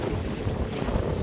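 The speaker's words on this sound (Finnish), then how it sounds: "kyllä siis ihan tuommoinen siis puhurituuli käy koko ajan" Gusty wind buffets a microphone on a boat fishing on a lake, a loud, steady rushing roar with faint water noise.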